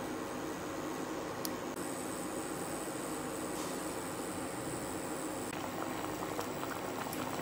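Liquid at a vigorous rolling boil in a cooking pot for quail eggs in caramel with a chicken bone, a loud, steady churning bubble that continues throughout without talk.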